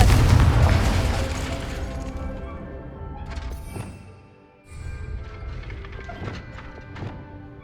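A Confringo blasting spell strikes a training dummy in Hogwarts Legacy, with a loud booming impact at the start that fades, then a fresh burst of crackling, rumbling magical effects.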